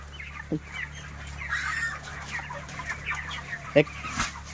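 Broiler chickens around 28 days old cluck and chirp softly throughout a poultry farm, with scattered short calls near and far and someone speaking briefly.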